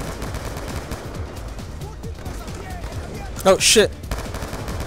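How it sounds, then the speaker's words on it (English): Gunfire in the Call of Duty Black Ops 2 campaign: a short loud burst of rapid shots near the end, following a stretch of quieter game noise, with a voice speaking briefly. "Yo, this is a dope ass gun, man."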